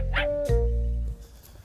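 Several dogs gathered on a farm give a short high yip followed by a sustained whining, tonal whimper that fades into quiet background.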